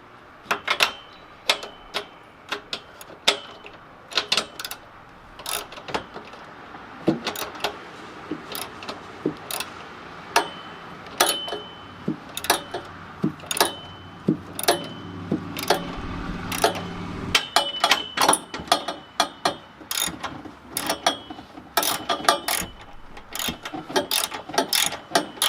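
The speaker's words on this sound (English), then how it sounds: "All that needs bolting in now are the bottom bolts." Ratchet wrench tightening the bottom bolts of an Ultra Racing 4-point strut bar on a Toyota Corolla, heard as many rapid close clicking bursts in irregular runs with short pauses, no talking.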